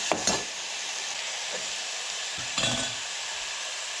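Tomato tempering sizzling steadily in a hot pan, a constant bright hiss with a couple of brief scraping stirs.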